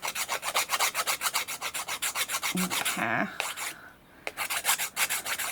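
A hand file rasps back and forth over the sharp edges of a cast resin piece, rapid regular strokes close to the microphone, briefly pausing as a voice speaks a word before the filing resumes.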